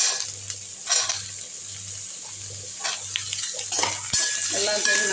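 Shallots, curry leaves and a piece of ginger fry in a pan with a constant sizzle, while a spoon scrapes and taps the pan in a steady rhythm, close and fairly loud.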